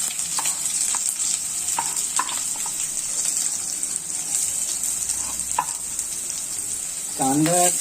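Onion sizzles in hot oil with bay leaves for a Malvani-style meat dish, a loud continuous frying hiss with occasional spoon scrapes and stirs, close by, and a brief clatter near the end.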